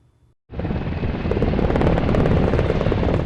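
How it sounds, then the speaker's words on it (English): Army Black Hawk helicopters flying over Brisbane during training flights, a loud continuous rotor and engine roar that starts abruptly and holds steady and close with no talking. "Army Black Hawk helicopters will be flying around Brisbane for the next month"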